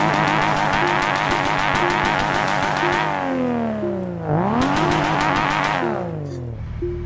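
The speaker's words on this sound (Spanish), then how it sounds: "Miren ahora cómo es el two-step." A tuned car running two-step launch control, the engine holding a steady buzzing rev with rapid popping, then dropping and rising in pitch through revving swells, loud and close with no talk.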